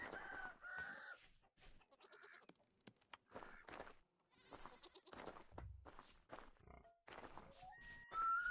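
Chickens in Vintage Story cluck and squawk in short, scattered bursts with brief pauses between calls, fairly quiet and close by, with no talking.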